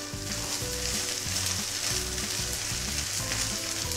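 Cooked rice, two cups of it, stirred into a frying pan for lemon rice, giving a steady close sizzle with soft rhythmic scraping and stirring throughout, no voices.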